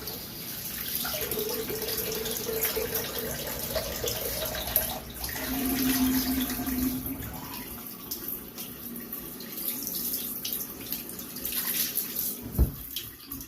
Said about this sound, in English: Go ahead and cold water rinse here.